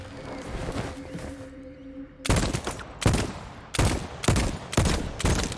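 Sharp pistol gunshots in the VoidTrain survival video game, five or six loud cracks fired in an irregular series after a quieter stretch of low rumble and a steady tone.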